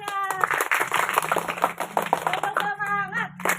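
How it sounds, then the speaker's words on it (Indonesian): Children clap their hands in a busy, overlapping burst at a school activity, mixed with excited young voices and chatter throughout. "Tepuk tangannya."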